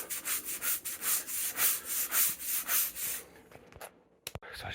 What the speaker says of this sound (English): So I'm just giving it all a scrub.